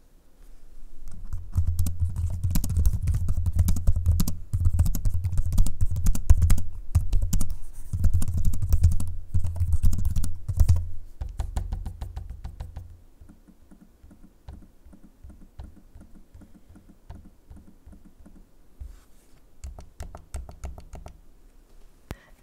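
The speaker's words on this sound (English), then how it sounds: "an audio sample of the keyboard and trackpad" Typing on the keyboard and tapping the trackpad of an Asus Zenbook Pro 16X OLED laptop: dense, steady clicking close up for about twelve seconds, then lighter, sparser taps and clicks toward the end, with no talking.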